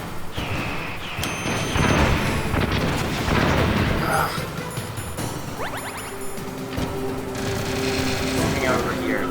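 Booming missile explosions and gunfire in the Metal Gear Solid video game, dense and continuous with electronic game effects, while someone talks over the action.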